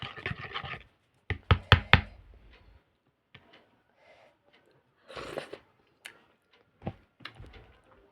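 Cold sour yogurt is eaten a little at a time and stirred in a bowl: scattered sharp spoon clicks and scrapes come in short clusters, with soft mouth sounds and quiet gaps between.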